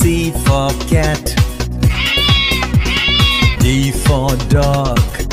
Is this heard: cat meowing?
yes